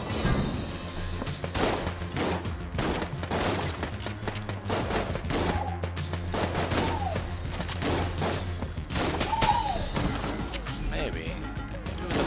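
Rapid gunfire from the roguelike shooter Enter the Gungeon, dense bursts of shots and impacts layered over game music, continuous and loud throughout.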